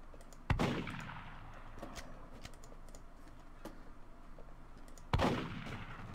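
Two sharp, loud gunshots ring out about five seconds apart while hunting seagulls in the video game Black Desert Online, with soft clicking and tapping between them.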